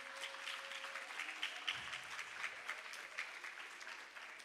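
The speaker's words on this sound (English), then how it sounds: "Let's give a lusty round of applause to your teachers" A round of applause for teachers at a junior school graduation ceremony, fairly soft and somewhat distant, with a faint tone and brief low bump partway through.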